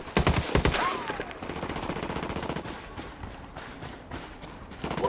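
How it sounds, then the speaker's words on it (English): Rapid bursts of machine gun fire in Ghost Recon Wildlands, loud and close at first, then continuing as quieter rattling volleys that trail off into the background. "machine guns"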